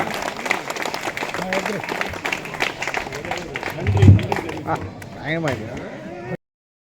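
Audience applause at a neighborhood welfare association's community celebration, a steady crowd clapping that runs under overlapping voices and ends abruptly near the close.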